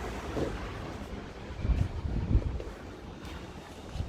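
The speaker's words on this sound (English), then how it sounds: "It's windy outside." Low, rumbling wind gusts buffet the microphone outdoors, swelling and easing in a steady broadband roar with no voices.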